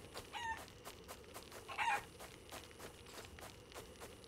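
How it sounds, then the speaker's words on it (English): A chicken minion in the video game Hardland clucks and crows in short bursts over a faint game background, with sharp rhythmic ticks repeating through the stretch. "gonna put on the old chicken mask and get us a chicken minion."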